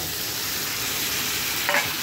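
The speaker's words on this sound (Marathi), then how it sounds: "मस्त तेलामध्ये याला व्यवस्थित फ्राय करायचं आहे।" Country chicken frying in hot oil with spices, a steady close sizzle with a brief stir or scrape near the end, no voices.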